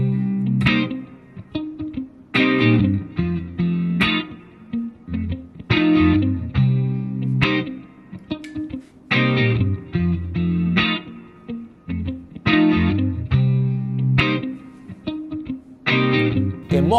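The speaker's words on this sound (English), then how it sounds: "Overdub a bass line." A bass line is overdubbed on a looper through a Spark 40 amp, repeating phrases of punchy, rhythmic low notes in a steady loop with short gaps between them, played alone.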